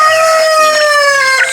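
A Brahma rooster crows loud and close in one long, drawn-out call, with soft clucking underneath.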